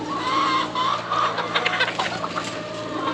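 Several chickens cluck and murmur close by in a farm pen, short overlapping calls over a soft background hum.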